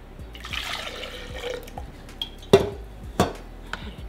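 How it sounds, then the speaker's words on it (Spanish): Water is poured into a cooking pot of meat being simmered for consommé, a soft splashing pour followed by a few sharp clinks of utensils against the pot. "Le voy a poner más agua"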